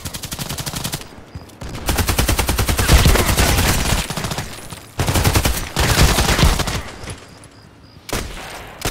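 Rapid gunfire from a UMP45 submachine gun and an MP-133 pump shotgun in the Contract Wars video game, with dense sustained bursts of automatic shots, brief pauses, then renewed volleys, loud and without speech.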